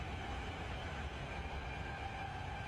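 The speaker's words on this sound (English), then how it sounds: "he's hanging out the BART train, getting the sound when it's in the tunnel" A BART train rumbles through a tunnel, captured by someone leaning out of a car, a dense, loud, continuous roar with a high metallic edge and no voices.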